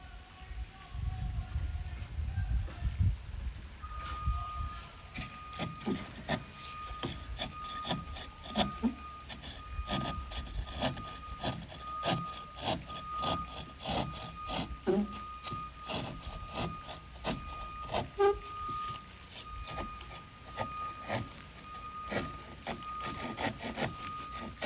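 A sheetrock knife saws a circle into drywall, giving rapid repeated rasping strokes close by, steady and rhythmic for the whole stretch with small knocks between.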